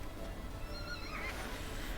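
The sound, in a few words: horse neighing in the video game Ranch of Rivershine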